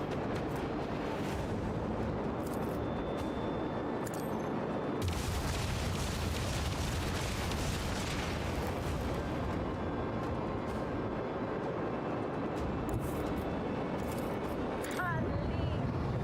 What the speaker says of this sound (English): Engage the macro cannons. Commence torpedo launch.